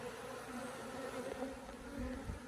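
Honeybees, including Africanized brood, hum and buzz steadily around a Langstroth hive during an inspection, a dense continuous drone close by with no voices.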